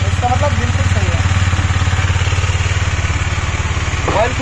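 A KTM Duke 250 single-cylinder motorcycle idling after an engine oil and filter change with Castrol Power1 Ultimate, a steady, loud, close, rhythmic thumping that holds even throughout with a faint clatter near the end.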